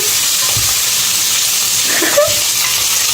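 Onions fry in a pan for mutton curry while a child stirs them, giving a loud, steady sizzle and hiss with a few soft scraping knocks of the spoon.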